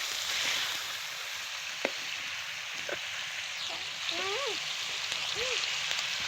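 Meat stir-fried in a pan by a three-year-old young cook gives a steady, soft sizzling hiss, with a few brief higher-pitched sounds and occasional light clicks over it.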